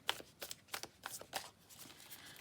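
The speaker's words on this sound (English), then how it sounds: "let's just have a little shuffle and see what we get for the week." Tarot card deck being shuffled by hand, several quick riffling bursts in an irregular rhythm, close and fairly quiet, with no talking.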